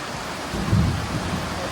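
Steady rain falls with a low rumble of thunder rolling through the middle, a short, fairly loud wash of rain noise with no voices.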